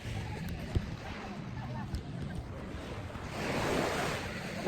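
Surf washing onto the beach at Calaguas Island, Camarines Norte, a steady broadband wash under light wind noise that swells louder toward the end.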